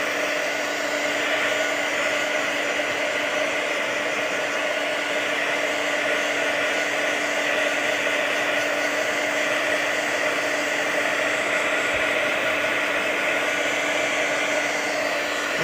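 A hair dryer blows steadily and loudly on a freshly painted background for a calico cat artwork, a continuous close whooshing drone with no pauses and no talking.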